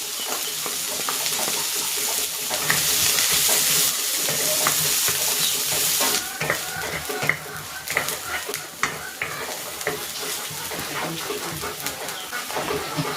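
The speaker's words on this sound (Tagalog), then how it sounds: "Igigisa ko na rin dito itong luya. Ilagay ko na rin tong sibuyas." Ginger and onion sautéing in a pan for chicken arroz caldo make a close, continuous sizzle, broken by scattered clinks and scrapes of stirring.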